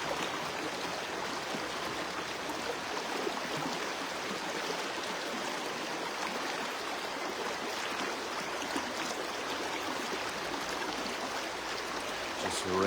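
A river flows steadily, a continuous broadband rush of water that holds an even level from start to finish with no voices over it.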